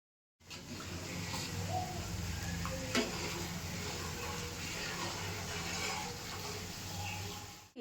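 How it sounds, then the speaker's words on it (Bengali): Cooked bottle gourd is stirred in a pan, giving a steady low sizzle with soft scraping and one sharp clink, fairly quiet and close, without talk. "লাউটা এবার নাড়িয়ে চাড়িয়ে নামিয়ে নিই"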